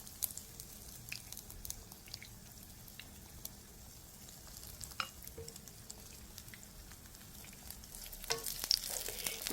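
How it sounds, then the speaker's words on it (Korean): Eggplant slices coated in egg batter fry in a pan, giving a steady soft sizzle and crackle throughout with small pops and brief scraping or turning sounds near the end, no one speaking. "이렇게 해서 살짝 뒤집어서 한 번 더 노릇노릇하게 구워줄게요."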